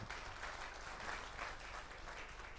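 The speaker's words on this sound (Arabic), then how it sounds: "تفضلوا صفقوا" Audience at a music festival in Granada applauds a student orchestra from the Tetouan music institute with steady, dense clapping from many hands, heard faint and distant throughout.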